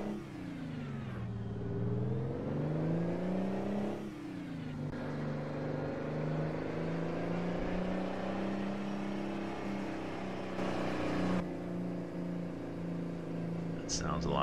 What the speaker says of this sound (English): Certainly the high rev engine.